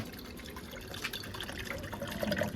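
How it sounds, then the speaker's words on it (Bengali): Water is poured into a glass beaker, a steady trickling fill with faint drips at close range, with no speech. "আমাকে পুরো বিকারটা ভর্তি করে আগে জল দিতে হবে এর মধ্যে।"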